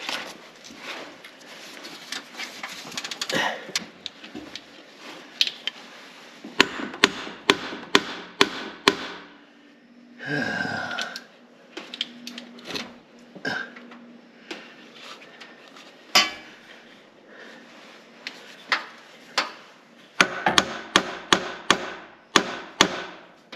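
A hammer clangs on a 1993 Peterbilt cabover truck with sharp, irregular metallic strikes, some loud and close, over a steady background of clatter and rustling.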